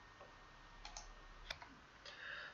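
Computer mouse clicks, a few faint isolated sharp ticks spread over a quiet background hum, close and sparse, no voices.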